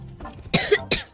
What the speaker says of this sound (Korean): 내가 지금 감기 때문에 기침을 계속 감